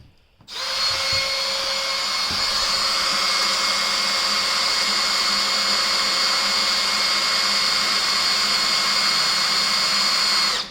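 A cordless drill whines loudly and steadily at close range, drilling a hole in an RV, a high-pitched continuous motor drone lasting about ten seconds.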